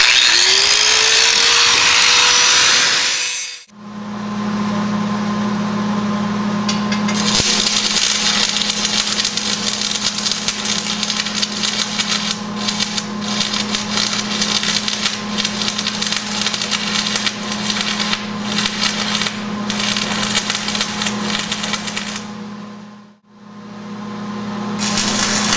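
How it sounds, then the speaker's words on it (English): Angle grinder grinding rough metal pieces off welded battery boxes, a loud steady whining drone held for long stretches, cutting out briefly near the start and again near the end before resuming. "Now I need to grind these metal things off to get it all the rough stuff ground off."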